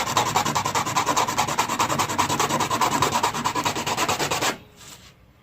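A bottle is sanded by hand with coarser sandpaper: fast, rhythmic rasping strokes, close and steady, then stopping abruptly near the end.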